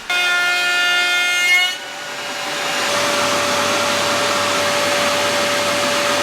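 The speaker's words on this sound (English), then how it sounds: "I'm going to use a corner radius jig and a flush trim bit to round all four corners" A loud, steady high-pitched router whine runs throughout, a flush trim bit rounding wooden table corners after a brief start-up hum, with a constant tone and no pauses.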